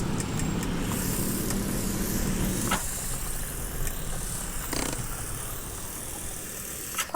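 A car in a zombie survival video game drives along with a low, steady engine rumble that fades after a few seconds, followed by quieter background noise and a few faint clicks.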